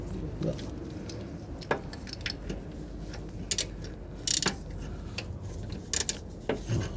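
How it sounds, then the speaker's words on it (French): A hand ratchet set to loosen works with a filter wrench on the oil filter during an oil change on a Renault Twingo 1.2 16V: quick bursts of close metallic ratcheting clicks over a quiet garage background. "avec le cliquet en mode dévissage"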